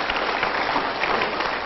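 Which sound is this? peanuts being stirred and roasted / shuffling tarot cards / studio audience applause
studio audience applause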